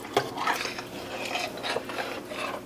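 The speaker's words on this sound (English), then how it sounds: "So I'm going to just stir that in." A spoon scrapes and clinks steadily around a pot of salty gravy for turkey wings simmering on low heat, close up with a soft bubbling bed beneath and no talking.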